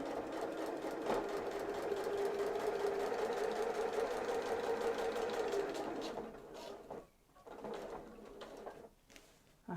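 Sewing machine stitching binding onto fabric hanging storage pockets, a steady mechanical whir running for about six seconds before breaking into short stop-start bursts.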